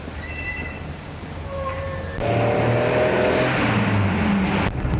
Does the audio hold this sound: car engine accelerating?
yes